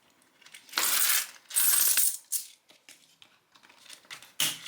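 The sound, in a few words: coins being handled while cash stuffing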